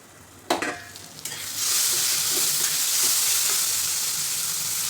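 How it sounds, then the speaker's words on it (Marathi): Tomatoes sauté in a pan for a large batch of pav bhaji, a couple of spoon clanks giving way to a steady, bright sizzle that stays loud and close to the end. "टोमॅटो छान परतलेला आहे,"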